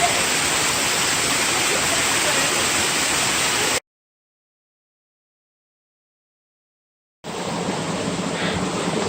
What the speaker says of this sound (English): This is Middle Creek Falls on the South Prong of Middle Creek.